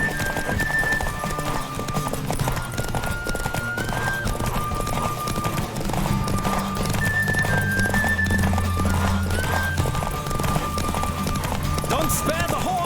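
Galloping horse during a race in the video game The Witcher 3: Wild Hunt, with steady rapid hoofbeats throughout, an occasional whinny, and a music score and talking layered over them.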